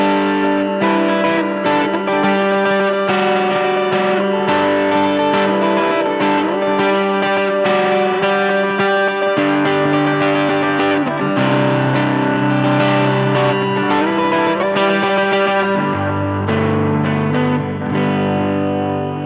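Electric guitar through an amp modeler's Fender Princeton Reverb model strums chords and picks notes with bright, full, clean tone, scooped mids and a touch of effects, playing steadily on its own with no talking.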